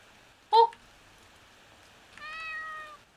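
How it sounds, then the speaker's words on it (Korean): A cat meows once, nearly a second and a half after a short, sharp, loud sound, with a quiet hiss of background noise throughout. "고양이다"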